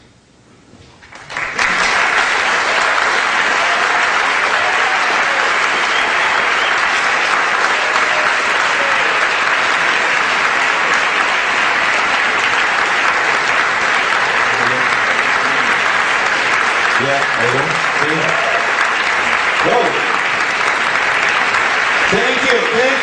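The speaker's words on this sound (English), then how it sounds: "Stand up and give the applause." Audience applause after a lecture on Latin American independence, starting abruptly and then sustained as dense, loud clapping from a large crowd for about twenty seconds, with faint voices beneath near the end.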